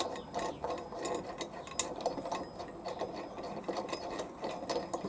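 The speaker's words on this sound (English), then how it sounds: "So I can remove the bolt and the blade. Keep going with the bolt." Steady ratcheting and metallic clicking as a wrench turns the blade bolt on a lawn mower underside, with repeated short scraping strokes at close range and no talk.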